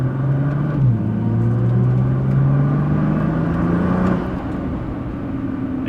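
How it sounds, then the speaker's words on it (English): A Nissan R35 GT-R with 545 horsepower accelerates, heard from inside as a loud, steady engine drone whose pitch climbs, dips at a gear change, then climbs again before easing off. "It gets up though, I will say that. It feels good as far as acceleration."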